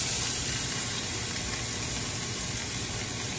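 Onions and peppers sautéing in a skillet that salmon was cooked in, a steady, close, hissing sizzle that runs unbroken throughout.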